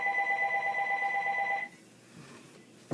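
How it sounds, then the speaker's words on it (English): A telephone rings in a quiet room, one steady electronic trill lasting about a second and a half before cutting off, followed by faint background noise and a short knock at the end. "That would be the phone ringing."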